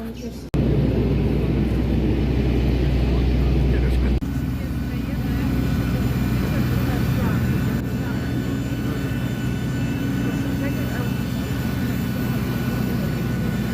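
Steady engine roar from an airliner on an airport apron in Poland just before boarding, a loud continuous drone that drops slightly after a few seconds and holds.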